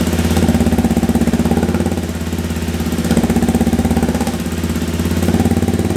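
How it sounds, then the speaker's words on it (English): A Honda CRF300L motorcycle with a big bore kit runs a steady, throbbing exhaust note, swelling into two brief revs before settling back, close and loud throughout. "Y'all want to hear an exhaust test, by the way?"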